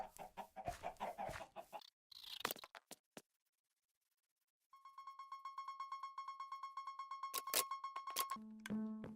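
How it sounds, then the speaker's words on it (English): Minecraft chickens clucking around a chicken farm, with soft repeated clucks and brief game sounds, a quiet gap, then a steady rhythmic run of clucking with tonal chimes overhead, fairly faint overall. "Chicken farm."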